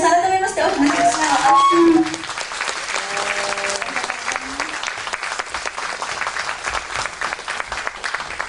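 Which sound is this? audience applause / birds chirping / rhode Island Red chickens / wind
audience applause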